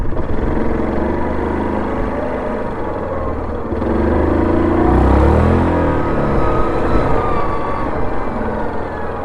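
A Yamaha Kodiak 700 ATV fitted with a modified clutch runs close and loud, its engine droning steadily and then rising into a whining surge midway before settling back down.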